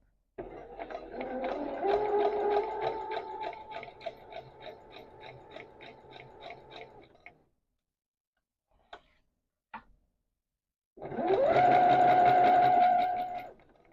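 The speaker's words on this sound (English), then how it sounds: "so now I am about to sew this neckband again" A sewing machine stitches a knit neckband in two runs, a steady rapid whirring stretch of several seconds, a pause with a couple of faint clicks, then a second shorter burst; fairly close and clear with no talking.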